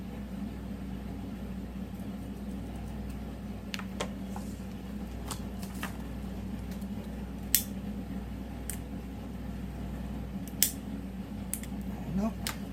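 Scissors cut through a piece of blanket fabric, giving scattered crisp snips and a few sharper clicks over a low steady hum, with quiet speech at times.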